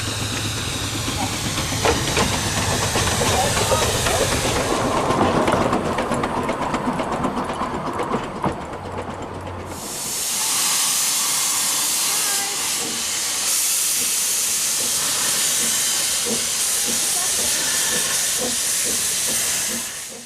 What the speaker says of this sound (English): Quarry Hunslet Dolbadan is in steam, a welcome sight that seems to follow me whenever I visit this line.